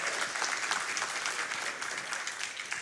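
A large Summer Games Done Quick audience claps and cheers in a dense, steady burst of applause filling the hall, loud and continuous with no talk over it.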